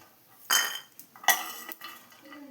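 Roasted peanuts scraped and tipped from a pan into a bowl: two sharp clattering bursts of metal against metal with softer scraping and clinks between, close and with no talking.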